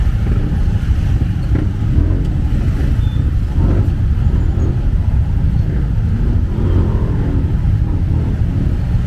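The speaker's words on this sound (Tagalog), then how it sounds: "Grabing traffic." Heavy road traffic on a congested street near Taytay public market, a dense, loud low rumble of idling and creeping engines that continues without a break, with no clear voices.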